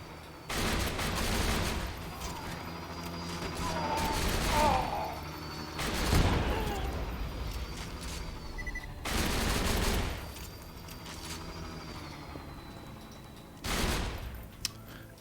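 Shotgun blasts in the video game Borderlands 2, several loud separate bursts with gaps of quieter game sound between them, close and sharp.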